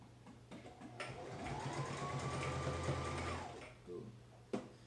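A sewing machine stitches fabric for a face mask, whirring in one steady, close run of a couple of seconds before stopping, then a sharp click near the end.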